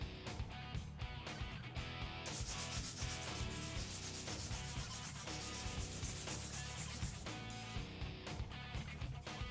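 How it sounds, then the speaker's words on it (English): Hand sanding a full tang knife's handle and guard through successive grits, a steady rhythmic scratchy rasp of sandpaper strokes, close and continuous with no voices. "Now hand sand the handle and guard to its final shape, working through the consecutive grits."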